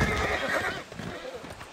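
A horse neighs loudly in Civilization VI, a close, drawn-out whinny with faint hoof clopping underneath.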